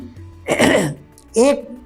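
A man giving a lecture clears his throat twice in quick succession, loud and close, each a rough burst with a brief gap between.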